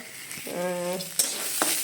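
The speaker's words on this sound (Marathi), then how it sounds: "आता कांदा भाजून घेते" A steady sizzle of onions frying in a wok, with a brief humming tone and a couple of soft clicks.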